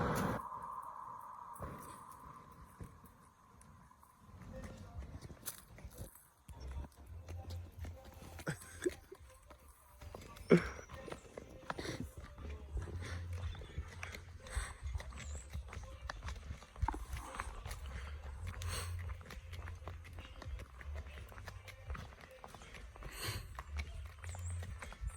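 Donkey hooves clip-clop steadily through a donkey-back ride in Drumilly, St Ann, a continuous walking rhythm carried under outdoor ambience and occasional voices.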